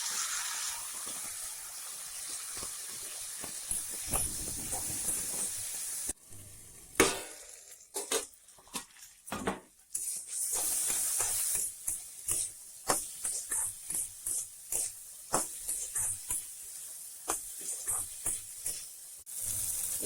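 Papaya flowers frying with potatoes in a pan, a steady bright sizzle of hot oil broken by frequent scraping and clicking stirs of a spatula, close and moderately loud, no talking.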